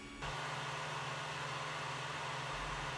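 An Ender-3 3D printer fitted with a BigTreeTech SKR Mini V3 board runs quietly, leaving a faint low hum and soft fan hiss that stay steady throughout.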